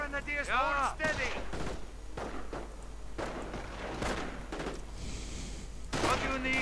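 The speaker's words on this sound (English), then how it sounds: "Incoming gunfire!" Gunfire in a real-time strategy video game battle: dense bursts of shots and thuds crackle at mid distance, partly under a commentator's excited talk and in-game unit voices.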